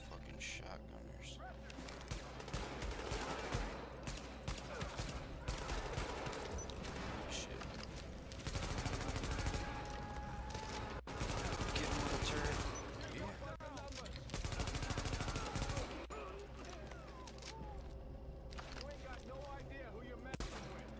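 Enemy shotgun fire in The Division, heavy repeated blasts and loud bursts rolling through a dense, noisy firefight with game music and effects.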